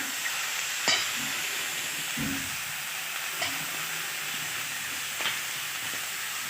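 Broad beans and onions sizzle steadily in a pan while a spoon scrapes and stirs at intervals, close and soft, with no one talking.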